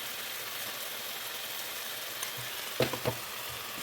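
Pork fried rice with mixed vegetables sizzling softly in a pan as it is stir-fried, a steady hiss with a few brief scraping clatters near the end, quiet and close.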